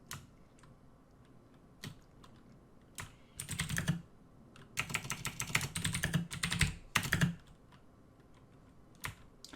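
Computer keyboard typing, heard as scattered single key taps that build into two dense bursts of rapid clicking in the middle, close and fairly quiet, with no voices.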